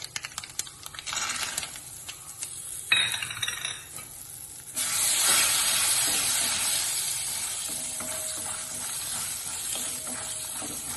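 Peanuts dropped into hot oil for a tempering of mustard seeds and asafoetida, giving a sudden bright sizzle that keeps crackling steadily, with a brief clink of utensils before.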